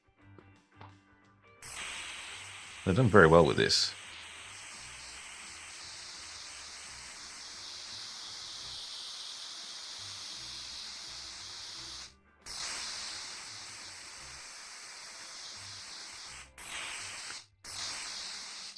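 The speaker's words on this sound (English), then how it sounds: "See the paint sort of spraying and bouncing off" Paint sprays from a spray gun in the virtual reality game Workshop Simulator VR: a short, loud, hissing burst fades into a steady, quieter airy hiss with brief cutouts, and a voice speaks faintly over it.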